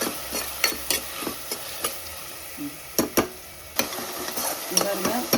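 Tomatoes being sautéed in a pan, with a close, steady sizzle under repeated spatula taps and scrapes against the metal that come at an uneven rhythm.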